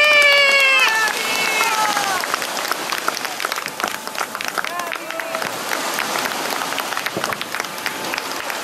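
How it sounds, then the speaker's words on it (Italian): Steady applause and scattered cheering from an outdoor crowd at a rowing event for a junior crew, with a few tonal whistles or calls at the start, continuing throughout at moderate level. "Un applauso per questi ragazzi."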